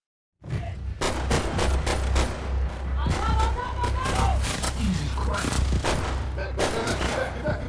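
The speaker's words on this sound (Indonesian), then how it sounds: "geng Stone pun menyerang dengan cara menembaki para polisi tersebut hingga terjadilah aksi baku tembak tersebut" A gang opens fire on police in a film shootout, with dense, repeated gunshots and booms crackling continuously under a narrating voice.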